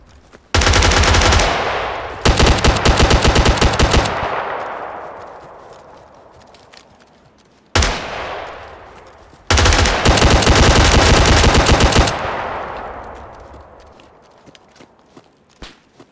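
Heavy machine gun fire in the DayZ video game: two long, loud, rapid bursts about seven seconds apart, each ringing out in a decaying echo, with faint scattered clicks between them.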